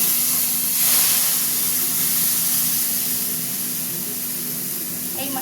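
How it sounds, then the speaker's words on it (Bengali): Spice paste hitting a hot pan sends up a loud, steady hiss and steamy sizzle that swells briefly, then holds for several seconds with no talking. "এবার আমি এই যে পেস্টটা ঢেলে দেবো"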